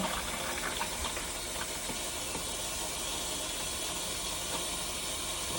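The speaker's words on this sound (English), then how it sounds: "you hold this floor pedal all the way down and you flush" An RV toilet flushed by holding down a floor pedal, giving a steady, faint rushing hiss of water that runs unbroken throughout, with no talk.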